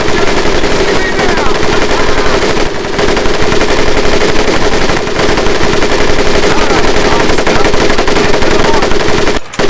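Machine gun fire in the World War II shooter Medal of Honor Pacific Assault, loud and sustained. Rapid bursts overlap continuously with dense gunfire across the whole stretch.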